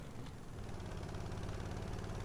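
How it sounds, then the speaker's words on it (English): A truck engine in a driving video game revs hard, holding a loud, steady low drone with a rough vibrating edge for the whole stretch, with no other sounds over it. "Whoa, that is revving quite a lot. Calm down, truck."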